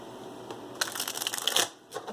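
Tarot cards shuffled by hand, a short, crisp riffle of flicking card edges that builds up and stops, close and fairly quiet, with no talking.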